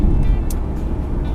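A Porsche Panamera touring car cruising on a highway between Copenhagen and Hamburg, a steady low road and engine rumble heard from the cabin, continuous and moderately loud with no talk.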